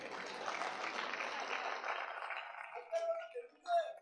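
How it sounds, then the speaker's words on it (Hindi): Crowd clapping at a Hindi poetry recital (kavi sammelan), a broad continuous patter that holds steady, then thins and fades out, leaving scattered faint sounds and a few brief tones near the end. "एक बार इसके बालों के लिए ताली बजा दो यार"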